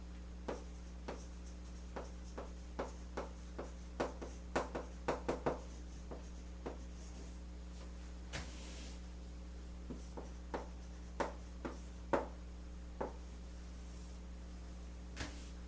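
A pen or marker writes on a board or paper in quiet, irregular taps and short strokes over a low steady mains hum, close and faint, with no talking.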